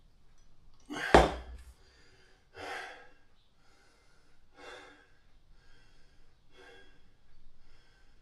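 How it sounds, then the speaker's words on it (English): Heavy, sharp breaths during a kettlebell circuit with two 16 kg bells, a strong gasping inhale followed by several softer rhythmic exhales spaced about two seconds apart, close and alone. "Taking a breath."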